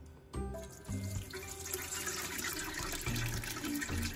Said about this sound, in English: Now I'm gonna take the curds and whey and put them into this